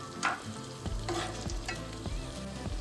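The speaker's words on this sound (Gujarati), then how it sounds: "આ રીતે આપણે હરવા હાથે જ આપણે ફેરવશું મરચાંને" Stuffed green chillies fry in a pan while a spatula gently turns them, a soft sizzle running under several distinct scraping, stirring strokes spaced about half a second apart, close and fairly quiet.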